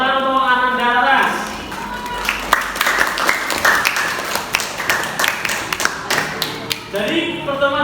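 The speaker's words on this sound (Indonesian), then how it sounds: "Oke, tepuk tangan untuk Ananda Laras." A classroom audience breaks into applause, a burst of scattered claps that swells and then thins out over several seconds, with a teacher's voice heard before and after.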